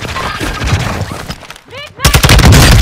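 Loud, dense bursts of rapid automatic gunfire in Call of Duty Warzone 2 on Ashika Island, a short lull, then a heavier close fusillade; game voice callouts mix in with the shooting.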